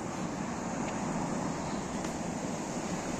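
Sea waves washing ashore, a steady broad rushing roar of surf with wind noise on the microphone, continuous and unbroken throughout, with no talking.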